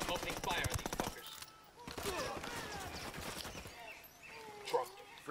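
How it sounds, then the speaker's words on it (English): Gunfire in Ghost Recon Wildlands, rapid automatic bursts crackling close, then sparser shots and a sharp report toward the end, with voices talking over the shooting. "Opening fire on these fuckers"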